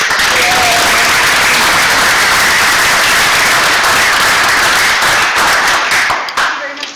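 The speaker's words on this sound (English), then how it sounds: "One more round of applause." Loud, dense applause from an audience at a school board meeting, honoring students with continuous clapping that holds steady before tapering off near the end.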